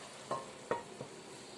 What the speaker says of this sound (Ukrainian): баклажани поки що тушкуються, буду інколи помішувати